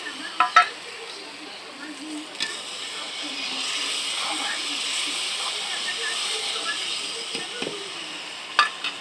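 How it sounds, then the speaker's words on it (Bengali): Chilli, turmeric and Kashmiri chilli paste sizzles in a pan over a wood fire, a steady moderate hiss with a few sharp knocks and clinks of utensils at the start and end. "এই যে লঙ্কা, হলুদ আর কাশ্মীরি লঙ্কা গোলা আছে দিয়ে দিলাম।"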